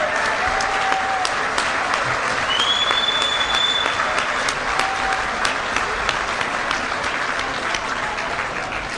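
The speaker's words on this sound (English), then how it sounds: "How about a big round of applause for Sean Paxton" Audience at a homebrewers' awards ceremony applauds a chef and the meal just served, a steady dense wash of clapping held at even strength for the whole stretch, with a few cheers and whistles rising over it.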